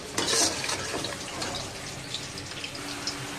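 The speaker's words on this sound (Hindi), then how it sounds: "तो अब इसमें थोड़ा सा पानी डाल देते हैं" Water poured into a pan of cooking masala for a sabzi, a steady close splashing and trickling stream that starts with a brief louder gush and then continues evenly.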